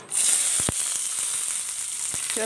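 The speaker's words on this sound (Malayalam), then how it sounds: "ഒരു പത്ത് ചെറിയുള്ളി അരിഞ്ഞതും രണ്ട് പച്ചമുളക് അരിഞ്ഞതും കൂടി ഇട്ട് കൊടുക്കാം" Chopped shallots and green chillies frying in a pan, a loud, steady hiss of sizzling oil right up close, with a few faint utensil taps.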